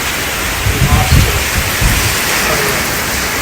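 Water runs and rain pours outside during Hurricane Milton in Parrish, Florida, a loud steady broadband rush with low rumbling bursts, and a voice talks briefly over it.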